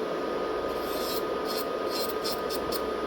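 An electric nail file bit grinds against a fingernail, giving a steady close-up whirring rasp with brief brighter scraping strokes as the bit moves up and down the nail.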